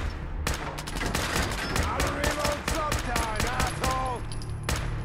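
Rapid automatic gunfire in Fallout 4, sharp bursts of shots in quick succession with a few isolated shots before and after, loud and close over faint background game sound.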